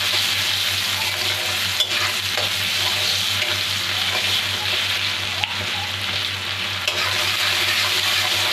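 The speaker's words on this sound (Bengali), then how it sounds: "এখন আমি এর মধ্যে দিয়ে দেবো পেঁয়াজ কুচি। আমি ভালো করে ভেজে নেব।" Chopped onions frying in a pan for mutton curry give off a steady, close sizzle throughout, with a low hum beneath and a few sharp utensil taps, no voices.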